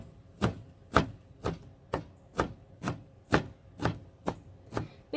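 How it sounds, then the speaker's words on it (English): Fresh dill being chopped with a knife on a board, about a dozen crisp, evenly paced chops roughly every half second, close and clear with no talk. "I'm going to be chopping it a little bit more."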